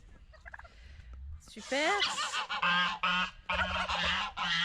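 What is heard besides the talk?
turkey gobbling during its strutting display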